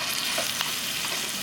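Ground pork frying in a hot pan for a Northern-style chilli dip gives a dense, continuous sizzle heard close up and alone, with a brief stir partway through.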